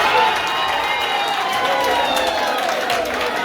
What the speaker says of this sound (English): please, can we clap for the government of Uganda?